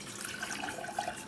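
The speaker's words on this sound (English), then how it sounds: "pour our 2 cups of water into our pot" Two cups of water pour into a cooking pot for making grits, a steady splashing, gurgling stream heard close and alone for a short moment.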